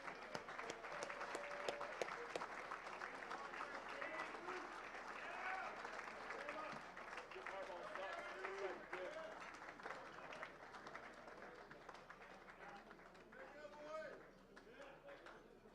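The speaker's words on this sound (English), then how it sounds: "one more round of applause for all of our winners thus far" A large audience applauds Greek Week winners, steady dense clapping and cheering that fills the whole stretch with voices mixed in, holding strong before tapering slightly near the end.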